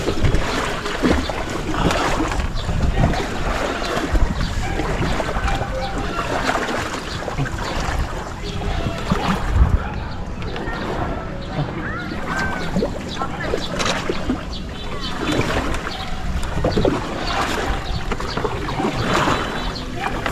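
A large wooden outrigger boat drifts on open water with its engine off while someone steers, water lapping against the hull and wind rushing steadily throughout, with voices talking over it.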